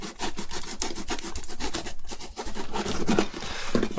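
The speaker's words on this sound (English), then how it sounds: "in small sawing motions" Blade sawing through cardboard for a Darth Vader helmet, close, rapid rasping strokes in a steady back-and-forth rhythm with a brief pause midway.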